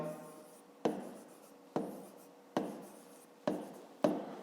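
Handwriting with a pen during a fifth-grade math exercise: five sharp, close scratching strokes land at a fairly even pace, each fading quickly, with no talk.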